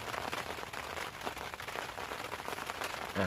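Rain falls steadily during a fishing outing, a dense, even patter of drops with no talk and no break.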